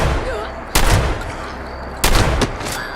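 Two loud, sharp shotgun blasts from Fallout 76 gameplay ring out about a second apart. Each hits hard and then trails into a short decay over a steady background hum.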